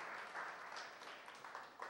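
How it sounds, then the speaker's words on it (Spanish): Church congregation applauding, a dense continuous patter of many hands clapping together, fairly even and sustained, heard from within the room with no clear speech. "¿Por qué no le da un aplauso a Jesús y le dice gracias Señor"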